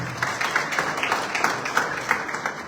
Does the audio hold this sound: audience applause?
yes